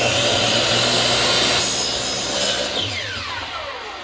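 A saw rips through a wooden pen blank cut from a 10-inch length of wood, a loud, steady, close-up rasping buzz that holds for several seconds before easing off as the cut finishes.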